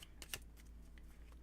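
Tarot cards being shuffled by hand, heard as soft, close riffling and snapping bursts, the sharpest near the start, all at low volume over a quiet background.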